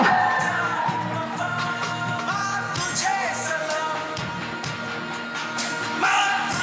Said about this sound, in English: let's give a big round of applause to his beautiful wife, Sweetie Lumba, as well.